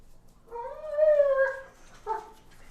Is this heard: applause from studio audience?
no